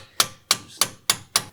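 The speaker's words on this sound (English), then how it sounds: "Generally, I don't recommend hammering a bolt into a section like this" Five sharp metallic hammer blows at a steady rhythm, close and loud, driving a bolt into the front suspension knuckle of a 2017-2024 Audi A4 B9 during a control arm replacement.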